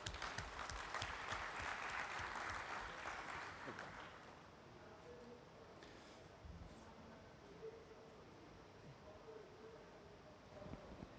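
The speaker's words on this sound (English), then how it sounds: "Let's have a round of applause." An audience at a climate and food-systems conference applauds as Professor Johan Rockström of Stockholm University is introduced. The dense clapping runs for about four seconds, then quickly fades into quiet room noise.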